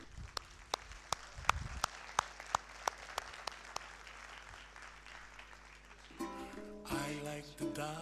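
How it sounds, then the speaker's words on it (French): An audience claps after two performers are introduced, the applause coming in a burst of sharp, scattered hand claps before settling into a steady wash, then fading as music with singing takes over. "je vous demande de les applaudir"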